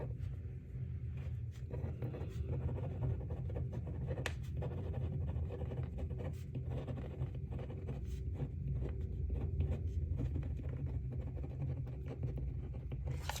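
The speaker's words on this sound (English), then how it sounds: "Let me write that down" Pen writing a note by hand, faint scratchy strokes and small taps over a steady low background rumble, close but quiet.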